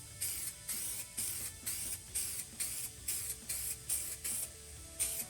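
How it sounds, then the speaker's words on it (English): Spray paint hisses onto a Proline body for a Traxxas UDR RC truck in about a dozen short, evenly spaced bursts, close and crisp, with no talking. "Just peeled the film off and we're going to spray right over."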